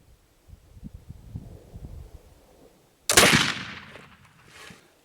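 A gunshot using homemade sycamore-charcoal black powder cracks out loud and close, a single sharp blast with a ringing decay, after a stretch of low rustling and handling noise.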